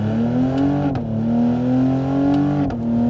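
A Cadillac CT5-V sedan with a twin-turbo V6 and all-wheel drive pulls hard, its loud engine drone climbing in pitch with two brief dips as it shifts, close and continuous.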